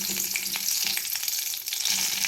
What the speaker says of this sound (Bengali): এবার কড়ার মধ্যে আমি তেজপাতা দিয়ে দেবো।